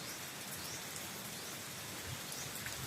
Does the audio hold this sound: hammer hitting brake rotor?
no